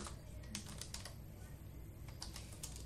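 Quiet clicking of computer keyboard keys, a scattered run of light taps at uneven rhythm over a low steady background hum.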